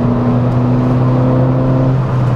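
A 2016 Ford Fiesta ST engine holds a loud, steady droning note while accelerating, heard from inside the car, then the pitch drops near the end.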